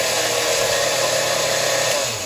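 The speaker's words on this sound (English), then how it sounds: "I'm just going to give this a little whir on the blender." Blender whirring cocoa pudding mix, a loud, steady motor whine that runs continuously, holding level throughout before easing slightly at the very end.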